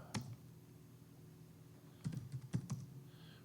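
A few sparse keystrokes on a computer keyboard during a security workshop: a single click, then a short cluster of clacks a couple of seconds later, faint and close.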